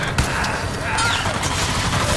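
Rapid bursts of gunfire from a first-person shooter battle in the video game Crysis 3, dense and continuous through the short stretch with other game effects layered in and speech in the background.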